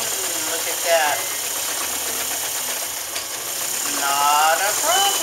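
Imperial sewing machine straight-stitching a long stitch through thick folded denim jeans, a steady mechanical running hum with rhythmic knocking, moderately close, while a person talks over it.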